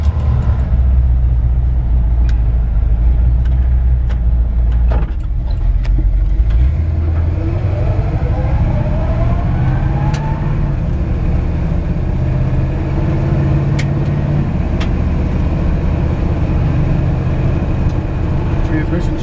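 A 1962 Chevrolet C10 pickup with a V8 drives along, its engine a loud, steady low drone over road rumble, climbing in pitch as it accelerates and shifts gear partway through.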